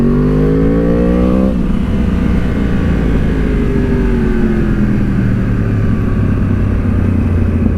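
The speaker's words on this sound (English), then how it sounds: "this bike does have a set of Akropovich carbon fibre exhausts on, to which case they make a lovely noise" A 2013 Yamaha R1 motorcycle fitted with Akrapovic carbon fibre exhausts revs hard, rising to a sharp snarl and then easing into a deep, steady, rumbling idle, very loud and close throughout.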